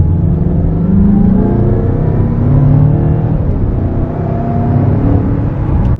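Mazda CX-5 GT turbo SUV engine accelerating, a steady mid-pitched engine hum and drone that rises gradually in pitch, heard from inside at a constant fairly loud level with no talking.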